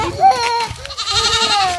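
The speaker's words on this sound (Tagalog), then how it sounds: "Ayun sa inyo to mga kambing." Goats bleating on a farm, several wavering nasal cries overlapping in quick succession, close and fairly loud.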